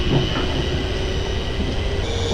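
A Class 380 electric train on the Glasgow airport rail link picks up speed with a loud, steady rumble of wheels on the track and a thin high whine, and no one speaks.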